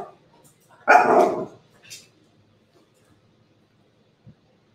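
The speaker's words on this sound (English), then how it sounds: "so I know they barking" A Maltese dog gives one loud, close bark, then a short softer yip, followed by near silence.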